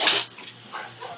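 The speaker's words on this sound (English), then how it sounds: "I had to let the dogs in" Dogs whimpering and yipping close by, a series of high, thin cries in several quick bursts, fairly loud over a faint hum.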